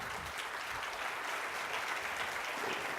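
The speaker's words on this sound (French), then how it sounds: "Tonnerre d'applaudissements pour" An audience at a round-table conference session applauds the four participants, a continuous, even patter of many hands clapping in a hall, moderately loud and unbroken throughout.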